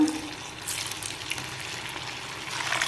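Cabbage Manchurian balls frying in hot oil, a steady bright sizzle and bubbling hiss that swells slightly toward the end, close and alone.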